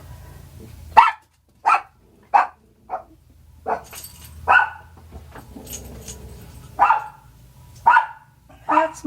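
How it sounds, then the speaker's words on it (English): A dog barks in sharp, separate bursts about nine times, some doubled, loud and close in a quiet room, with a low hum underneath and soft speech between the barks. "That's my dog Gracie"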